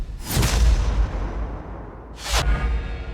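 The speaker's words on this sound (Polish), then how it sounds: "Wybuch częściowo niszczy i unieruchamia rosyjski wóz." Two sharp, loud blasts about two seconds apart, each a sudden burst with a brief rushing tail, over low rumbling background noise, as a drone strike partly destroys a Russian military vehicle in Vuhledar.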